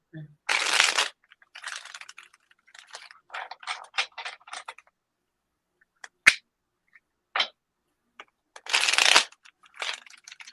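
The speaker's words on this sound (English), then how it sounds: "I'm going to start shuffling" Tarot cards are shuffled in several quick riffling bursts, separated by pauses and scattered soft taps and clicks.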